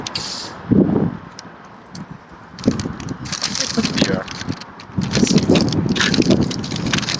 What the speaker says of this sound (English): Really unpleasantly windy today.